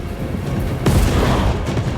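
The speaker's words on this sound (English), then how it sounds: "The cannons rain death." Cannon fire in the Total War: Warhammer III battle game: a deep, loud boom bursts out about midway and rumbles on beneath a dense, continuous din of battle.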